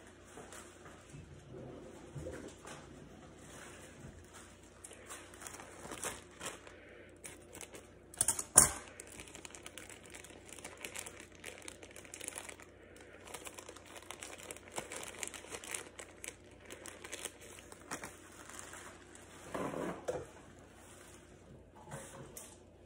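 On a microbiology lab bench, scissors cut a pipette tip and a wet paper towel wipes the blades. Soft, quiet crinkling and rustling run throughout, with one sharp snip partway through and no talking.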